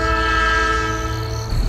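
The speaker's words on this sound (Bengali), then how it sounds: "ট্রেনটা হুইসেল দিয়ে চলতে শুরু করলো।" A train sounds a long, loud, sustained horn blast as it begins to move, with a deep rumble underneath and the tone dropping off near the end.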